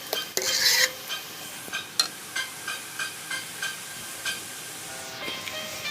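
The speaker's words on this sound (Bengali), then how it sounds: "এখন আমরা আবার কড়াইয়ের মধ্যে ছেঁকা আমগুলো দিয়ে দিচ্ছি।" A spatula scrapes and stirs strained ripe mango pulp in a metal wok, a rhythmic series of close, even scraping strokes after an initial louder clatter, with no talk.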